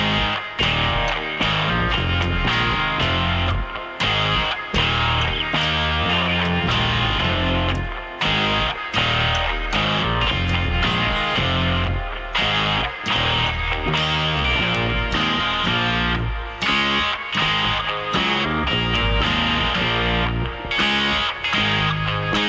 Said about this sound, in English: This is stereo hard pan electric guitars, bass down the middle, and acoustic guitar.